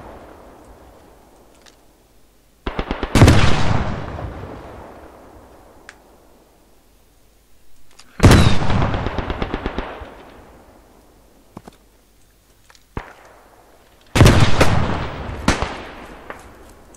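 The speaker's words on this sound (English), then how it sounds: "Barrage in the area" Artillery barrage in a WW1 trench-warfare game: three heavy, booming cannon blasts land several seconds apart, each a loud sudden crack followed by a long rumbling decay, with faint background ambience between them.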